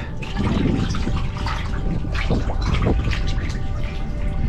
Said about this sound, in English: that seems to be around the same place where the water is coming in from